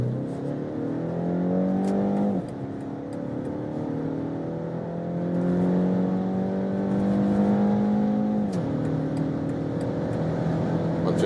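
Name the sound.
BMW X1 four-cylinder engine accelerating from a rolling start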